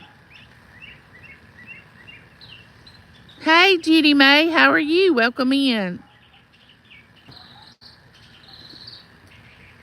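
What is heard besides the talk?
birds singing outdoors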